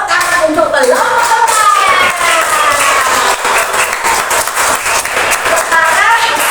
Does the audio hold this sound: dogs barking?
no